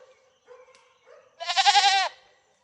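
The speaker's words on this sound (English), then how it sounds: "her cries call the other goat to her" Goat on a homestead crying out with a loud, wavering bleat lasting about half a second, preceded by faint low calls, heard close and alone.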